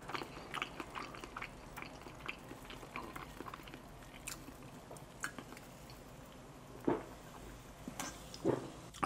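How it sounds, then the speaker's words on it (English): Close, wet chewing and biting of carne asada fries, churro donuts and fried fish tacos during a mukbang, with irregular soft crunches and smacks and a couple of louder squishy bites near the end. No one speaks. "Sometimes I chew too long."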